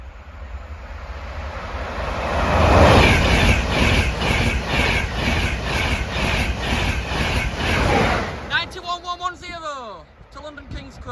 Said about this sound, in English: There's a 91 as well. Love these trains.